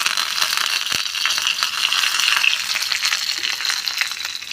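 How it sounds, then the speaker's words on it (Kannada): Curry leaves and asafoetida sizzling in hot oil for a tempering, a loud continuous crackling fry with a sharp pop near the start and no talking. "ಒಂದು ಸ್ವಲ್ಪ ಕರಿಬೇವು ಹಾಕಿ, ನಂತರ ಇಂಗನ್ನು ಹಾಕ್ಕೊಳ್ಳಿ."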